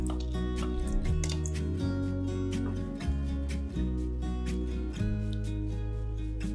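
Pot of salted water with rice for Pakistani-style nasi briyani at a rolling boil, a continuous close bubbling and gurgling with steady low churning and scattered pops, no talking.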